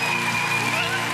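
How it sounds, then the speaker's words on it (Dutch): Loud applause erupts after a dance audition, a dense wash of clapping and crowd noise with a voice talking over it. "Ik hoor heel luid applaus op dit moment"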